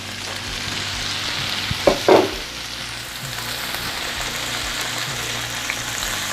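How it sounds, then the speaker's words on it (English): Food sizzles in a Paderno cast iron pan, a continuous hiss with a short burst of stirring scrapes near the middle. "Let's stir it occasionally."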